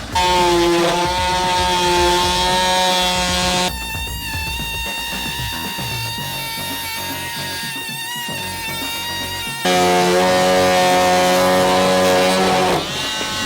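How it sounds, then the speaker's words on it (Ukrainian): A Dnipro-M MF-42SEQ oscillating multi-tool fitted with a wood and chipboard blade, cutting a small clamped piece of plexiglass: a loud, close, buzzing motor whine that turns rougher and grittier in the middle while the blade bites, then returns to a smooth high drone. "Закріпив невеликий шматок оргскла і спробую його порізати насадкою по дереву та ДСП."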